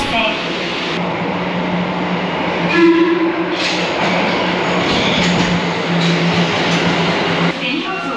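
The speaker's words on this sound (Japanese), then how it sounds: "銀座線は渋谷方面の電車に、乗車したいと思います" A Tokyo Metro Ginza Line subway train rumbles and rattles steadily while riding, with wheel and motor noise throughout and a brief tonal whine partway through.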